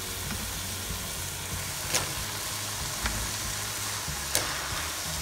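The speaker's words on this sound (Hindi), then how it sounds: "ये हमारा ऐसे यहाँ मसाला रेडी हो गया है, बहुत अच्छी खुशबू आ रही है और अब ये ऑलमोस्ट तैयार है, इसमें हम ये जुकीनी और आलू डाल देंगे।" Zucchini and potatoes fry in masala on a stovetop, a soft steady sizzle with a few faint clinks of stirring, low in level and with no talk.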